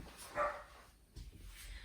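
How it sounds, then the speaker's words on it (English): A pet dog barks a few times indoors, with one short, fairly clear yelp and a couple of fainter barks, heard during a quiet home yoga class. "I'm going to hope that my dog stops barking soon."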